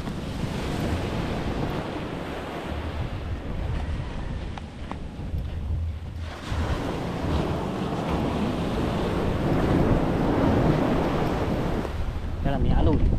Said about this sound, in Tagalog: Kaya may alon.